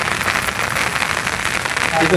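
Heavy rain pours down on a village fishing spot where bamboo shrimp traps are being lifted, a loud, steady hiss of drops on water and surfaces, close and unbroken.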